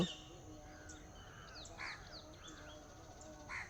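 Crows caw in repeated short calls at sunrise over open land, several birds at moderate distance, with a steady low background hum throughout.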